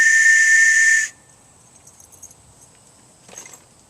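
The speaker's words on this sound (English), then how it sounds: "Coast Guard whistle." A Coast Guard safety whistle gives one loud, piercing shrill blast of about a second, then cuts off, leaving quiet outdoor ambience with a faint brief rustle near the end.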